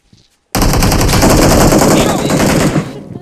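Loud, sustained automatic gunfire from the video game PUBG Mobile, a fast run of close shots blasting continuously for nearly three seconds after a brief quiet start.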